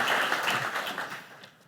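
An audience at a healthcare award ceremony applauds, a dense wash of clapping from many hands that is loud at first and fades out over under two seconds.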